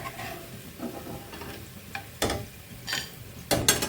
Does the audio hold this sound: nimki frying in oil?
yes